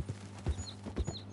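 Horse hooves clip-clop at a steady trot in the Red Dead Redemption 2 video game, with about four close, evenly spaced hoof beats and a low hum underneath and no talk.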